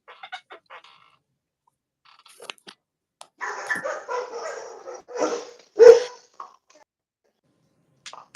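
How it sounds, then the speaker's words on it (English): A dog barks at a distance in a quiet room: a few short yaps, then a burst of rough barking and one louder bark, with faint sounds in between. "He hears dog barking"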